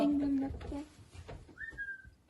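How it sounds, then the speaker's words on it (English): A short rising whistle tone sounds briefly amid background voices and room noise, fairly faint and mid-distance. "And somebody whistling."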